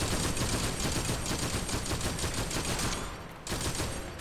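.50 and .30 calibre machine guns firing in the World War 2 game Call to Arms, dense continuous automatic bursts overlapping loudly, with a brief lull near the end before firing resumes.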